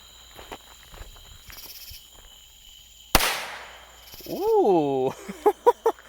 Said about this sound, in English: here's the Black Cat firecracker right here.